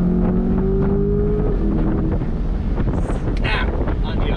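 A 2024 Chevrolet Corvette Stingray convertible exhaust roars loudly under heavy wind buffeting, with a rising tone early on and a voice speaking over it.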